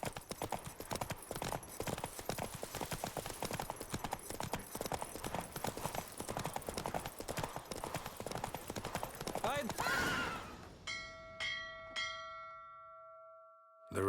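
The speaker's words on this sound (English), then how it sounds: "The Roach I chose put in a nice run" A horse gallops flat out in a race in The Witcher 3, its rapid hoofbeats pounding steadily for about ten seconds before slowing and stopping, followed by a few chiming game interface tones.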